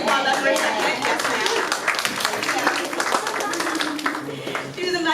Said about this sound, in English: Yes, we applaud that for a second.